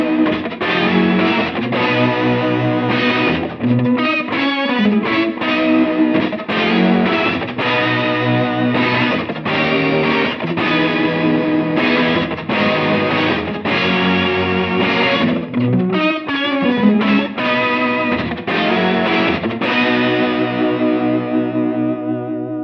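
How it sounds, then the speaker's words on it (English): Electric guitar through a shimmer reverb pedal and a Pro Team amp, drenched in lush shimmering reverb and chorus, chords ringing out continuously and loudly, with the wash trailing off into a long tail at the end. "That was actually the Shimmer Reverb"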